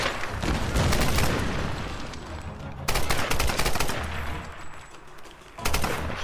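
Gunfire in the game Tomb Raider Definitive Edition, with loud close automatic bursts that come in three distinct waves, each rattling briefly before easing off.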